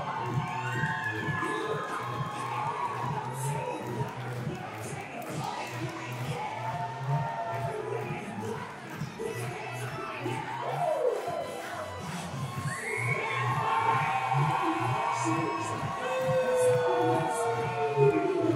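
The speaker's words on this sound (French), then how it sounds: "Entendez-vous la foule, mesdames et messieurs" A wrestling crowd at a live event roars and cheers for a wrestler's entrance, a loud, dense mass of shouts and whistles that swells toward the end, with a voice speaking underneath.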